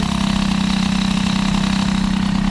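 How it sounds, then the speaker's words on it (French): A Peugeot 103 moped with an air-cooled Airsal 65 cylinder idles close up, a loud steady putter with a fast metallic ticking running through it, continuous and alone. "ce petit ting ting ting ting ting ting ting est quelque chose d'a priori normal avec les moteurs à refroidissement à air"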